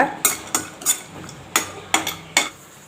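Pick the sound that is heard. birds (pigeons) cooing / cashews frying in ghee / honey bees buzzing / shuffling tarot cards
cashews frying in ghee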